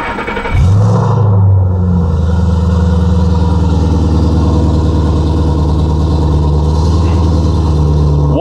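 2010 Ford Mustang GT with the 4.6 V8 and five-speed manual cranks and fires up, then settles into a loud, steady, close rumbling idle with a deep throb that continues alone to the end.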